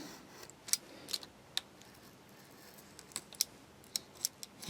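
A sharp hobby knife trims decals from a sheet for a Bandai 1/72 scale Y-Wing model kit: quiet, scattered crisp clicks and small scraping cuts spaced irregularly, close and faint, with no talk.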